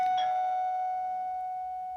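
A single electronic doorbell chime rings out clearly, a two-tone ding that rings on and fades slowly in a quiet room.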